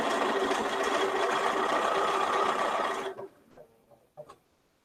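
A sewing machine stitches a quarter-inch quilt seam with a steady, fast whirring hum for about three seconds, then stops, leaving a few faint clicks and handling sounds.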